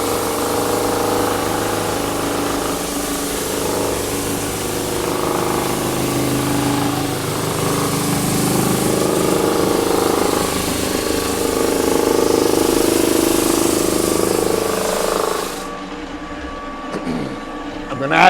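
A floor sanding machine works across rustic timber flooring with a loud, steady motor drone and grinding that swells and fades over several passes, then cuts out near the end while a person talks.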